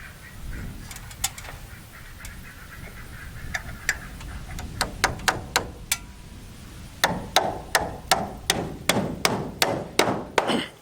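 Hammer blows drive number 10 nails into metal rafter hangers on a lean-to frame, sparse strikes at first, then a quick run of sharp, ringing metallic taps, close and loud.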